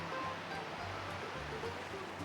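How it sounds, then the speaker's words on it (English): Surf washes up on a sandy beach strewn with rocks and shells: a steady, close broadband rush of water with a low rumbling undertone throughout, and no clear voices. "we've got a bit of water coming up"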